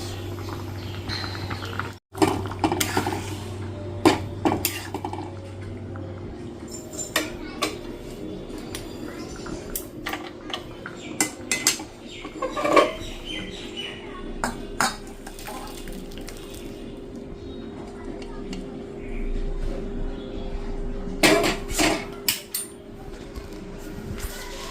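Garlic cloves being crushed for a kalo jeere and rosun tempering for pat shaak dal, a run of irregular knocks, taps and clinks of kitchen utensils, fairly close, with no speech.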